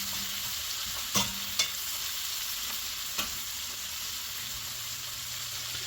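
Potatoes frying in bacon fat in a cast iron pan give a steady, moderately quiet sizzle, broken by a few sharp clicks of a utensil.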